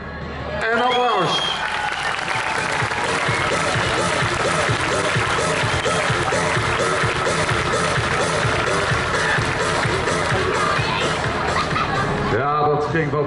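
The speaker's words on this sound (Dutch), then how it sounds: "En applaus." Loud, sustained applause from a show-jumping crowd in the stands and along the arena side, clapping steadily for about twelve seconds after a horse's final jump at Jumping Zaerum in Sevenum, with faint cheers and voices mixed in.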